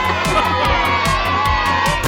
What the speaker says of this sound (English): Peppa and George shouted with excitement.